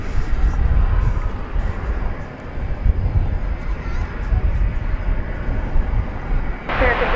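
American Airlines plane taking off at DFW Airport, a loud continuous jet engine roar with wind-buffeted rumble, steady and close, brightening near the end.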